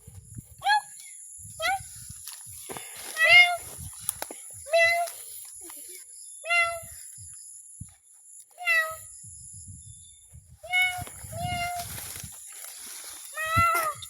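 A cat meows repeatedly, about a dozen clear, rising-falling calls at irregular intervals, close and fairly loud, with soft shuffling and faint handling noise between them.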